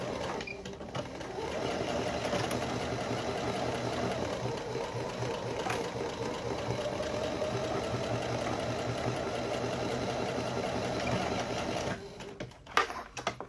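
A sewing machine stitches a fabric face mask, running in one steady mechanical whir for about ten seconds close up, then stopping with a few small clicks.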